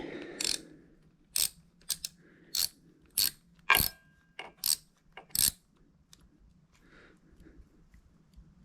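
A hand ratchet tightens a bolt during an oil change on a KLX300 motorcycle, giving about eight sharp, close clicks in an uneven rhythm with short gaps, then quieter handling noise at the end.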